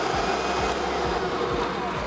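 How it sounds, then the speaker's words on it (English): A Kirby vacuum cleaner, tipped on its side, runs with a steady motor whine as its brush roll spins, with a rhythmic low thumping repeating about every half second underneath. "plug the vacuum cleaner in, tip it up on its side and turn it on"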